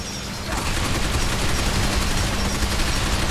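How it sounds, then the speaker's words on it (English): Rapid automatic gunfire in the shooter video game Binary Domain starts after a brief lull and continues as a dense, loud, sustained burst of shots and impacts throughout. "What am I shooting at?"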